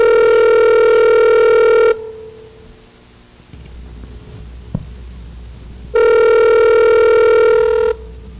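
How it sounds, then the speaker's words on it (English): A telephone call being placed: a steady dial tone or ringback tone for about two seconds, then a quiet stretch with a single click, then the tone returns loudly for another two seconds. There is no talking. "We're calling Loose Bruce"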